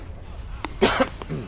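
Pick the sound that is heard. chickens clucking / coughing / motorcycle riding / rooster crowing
coughing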